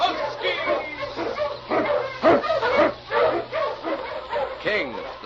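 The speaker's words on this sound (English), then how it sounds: "King, the swiftest, strongest of Eskimo lead dogs, blazes the trail through storm and snow for Sergeant Preston" Huskies pulling a sled in an old-time radio drama bark and yip excitedly in a rapid, near chorus, with whimpers mixed in under a voice.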